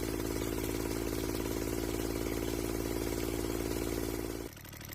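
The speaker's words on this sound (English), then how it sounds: "so we can let the engine run a little bit longer" A small Kubota D722 three-cylinder diesel engine with its injection pump, running somewhat unhappily with possible air bubbles in the fuel system: a loud, steady, close idling chug that changes abruptly near the end.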